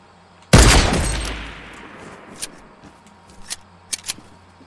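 A single loud, close sniper rifle shot cracks out in a video game and rings into a long decaying tail, followed by a few faint clicks and rustles.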